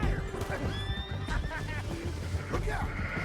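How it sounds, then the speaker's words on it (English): A horse in the video game Red Dead Redemption 2 gives a short, shaky neigh, with faint hoof sounds and game voices in the background. "He's up on that horse"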